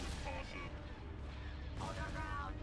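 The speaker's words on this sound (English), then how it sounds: "Direct fire at their laser cannons." Laser cannons fire in a Fall of the Republic space battle skirmish, a dense barrage of booming blasts and rumble that continues under game voices.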